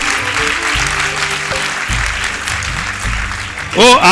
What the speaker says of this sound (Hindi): इस बात के लिए जोरदार तालियां हो सकती हैं